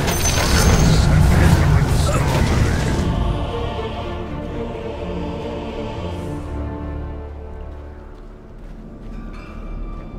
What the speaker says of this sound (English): Your top tower is under attack.